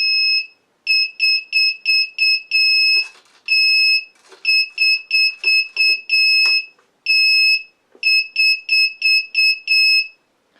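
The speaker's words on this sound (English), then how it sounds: "I have a buzzer connected to my throttle" RC transmitter throttle-cut warning buzzer sounding in rapid repeated bursts of shrill electronic beeps, grouped in quick trains with short pauses between, loud and clear over faint background clicks.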